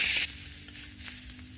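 Ground green peas sizzle in hot oil with a brief loud burst at first, then a quieter crackle under soft stirring.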